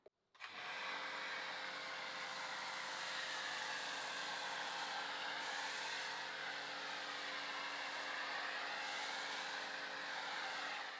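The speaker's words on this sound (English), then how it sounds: "The foam wash. I'm going to test this yellow snow foam from Shiny Chiefs." Yellow snow foam sprayed from a pressure washer foam cannon onto a Ferrari 488 GTB gives a continuous loud hissing spray with a steady underlying pump hum, starting abruptly and running unbroken.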